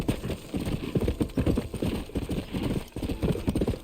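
Horse hooves clip-clop at a steady trotting rhythm with heavy breathing, close and loud throughout, in Red Dead Redemption Remastered, mixed with game ambience.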